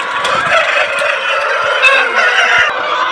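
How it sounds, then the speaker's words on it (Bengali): A flock of chickens on a poultry farm, a busy dense chorus of clucking and squawking calls overlapping continuously, fairly loud and close, with occasional sharper individual calls standing out. "এটা হচ্ছে মুরগ"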